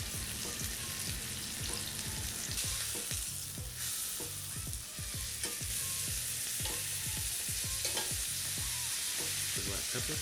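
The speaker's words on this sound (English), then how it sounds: "I'm gonna hit this carbon steel pan with some avocado oil, and we have our beautiful flat iron" A flat iron steak sizzles in a carbon steel pan with avocado oil, a steady, close hiss of frying punctuated by repeated scraping and stirring knocks throughout.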